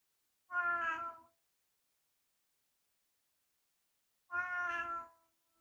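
A cat meows twice indoors, each call a clear drawn-out cry about a second long, separated by several seconds of silence, close and alone with no talking.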